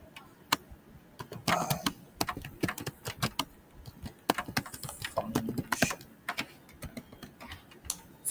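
Code is typed on a computer keyboard in quick irregular bursts of close, crisp key clicks with short pauses between runs and no voice over them.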